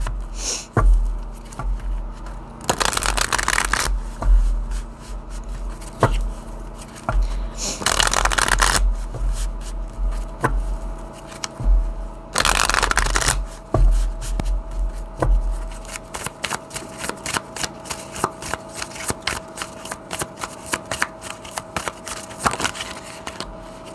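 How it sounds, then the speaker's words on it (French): A deck of tarot cards is shuffled over and over, with loud riffling bursts separated by softer handling and quick card flicks, close and continuous. "Je vais bien le brasser, hein."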